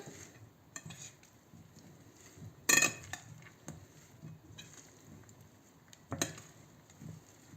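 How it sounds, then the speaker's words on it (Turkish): Potato salad with fresh greens is slowly stirred in a bowl, giving quiet scraping and soft clinks of utensil against the dish, with two sharper knocks standing out against a low background. "Şimdi yavaşça yine karıştırıyorum."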